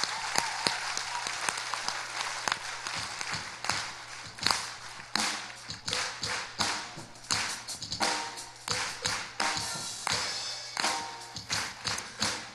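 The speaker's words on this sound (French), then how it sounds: "Bon Dieu, un gros applaudissement." A church congregation celebrating a 24th anniversary breaks into loud, sustained clapping close by, with irregular bursts and heavier claps throughout.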